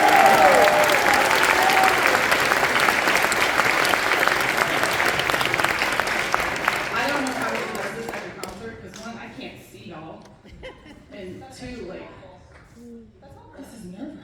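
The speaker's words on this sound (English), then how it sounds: "let's give all the boosters a huge round of applause" A crowd applauds the band boosters at a high school spring concert and awards night, loud and sustained, then thinning into scattered claps as voices start talking over the tail end.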